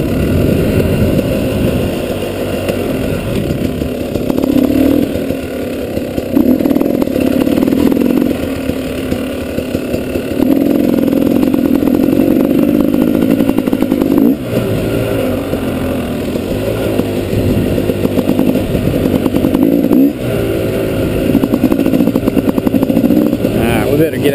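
A KTM motorcycle engine hums steadily while riding, a continuous close drone with slight rises and dips in pitch, accompanied by wind noise.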